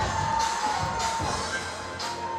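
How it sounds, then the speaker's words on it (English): A wrestling show crowd roars and cheers in a steady, dense wash of noise, with swells of louder cheering rising over the constant hubbub. "Listen to this crowd."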